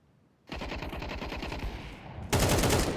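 Rapid, sustained automatic gunfire from Counter-Strike during a BLAST Rivals Hong Kong esports match, a dense rattling burst lasting about two seconds, then a louder, harsher volley at the end.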